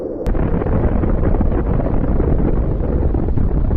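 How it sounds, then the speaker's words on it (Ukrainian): A sharp crack followed by a deep, sustained roaring blast that rumbles heavily and evenly, like a nuclear explosion's continuing shockwave; a sound effect. "Ядерний вибух."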